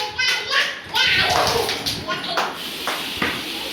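Children clap in a short burst of sharp, close hand claps and taps mixed with kids' voices and an adult speaking over them.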